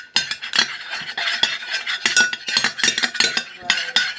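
Blue food coloring is stirred into slime, giving quick clicking, tapping and sticky squelching strokes in an uneven rhythm. The sound is close and fairly loud.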